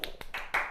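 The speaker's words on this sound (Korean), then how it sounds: "박수." A few sharp handclaps from students in a science high school chemistry class, spaced out unevenly and moderately loud in a small room.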